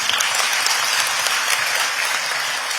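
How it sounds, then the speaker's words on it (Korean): Audience applause at a government luncheon for victims of state violence, marking the launch of the third Truth and Reconciliation Commission. Dense, sustained clapping from a large crowd fills the whole span at an even level. "감사의 박수 한 번 더 주십시오"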